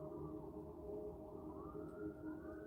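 A wailing siren rises and falls steadily at a distance, a continuous faint tone with slow pitch sweeps and no voices over it.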